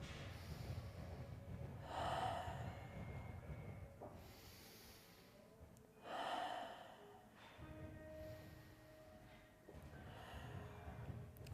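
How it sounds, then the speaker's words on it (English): Slow, deep breaths for a qigong exercise, two long audible inhales or exhales a few seconds apart, faint and close with quiet pauses between. "So let's start with our 3 breaths."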